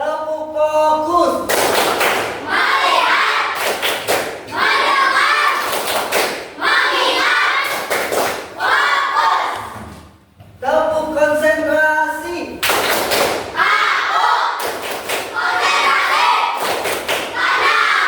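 Classroom children clapping a focus clap pattern, loud rhythmic bursts of group claps in repeated phrases with a brief pause midway, mixed with children's voices.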